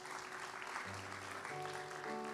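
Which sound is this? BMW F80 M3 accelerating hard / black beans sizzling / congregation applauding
congregation applauding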